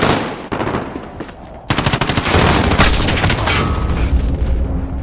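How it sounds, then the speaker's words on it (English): Airstrike in the Modern Warfare game: loud rapid gunfire bursts give way to a sustained roar of explosions and heavy booms, dense and continuous. "Be advised, friendly airstrike inbound."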